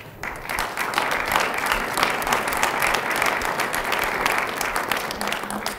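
An audience at a museum friends' annual dinner and awards gives sustained, dense applause with many hands clapping, loud and close, rising quickly and holding steady before fading slightly at the end.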